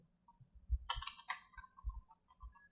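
Keys clacking on a computer keyboard while an HTML tag is typed, a short burst of quiet clicks with a few soft thumps, close and alone with no talk.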